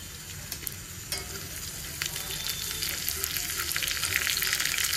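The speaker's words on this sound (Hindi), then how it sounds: "बाकी मैं ये तड़का ऐड कर देती हूँ।" Hot oil sizzles and crackles steadily as a tempering of chili and onion fries, close up, with a bright frying hiss that builds slightly over a few seconds.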